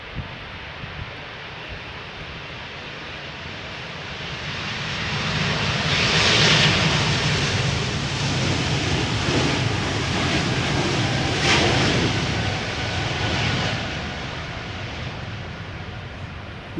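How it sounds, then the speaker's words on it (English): Embraer 195 E2 jet taking off from Schiphol's Polderbaan runway, a loud engine roar that builds and swells as it passes close by, then holds steady with wind noise. "We have an E2 Embraer 195 going to question mark."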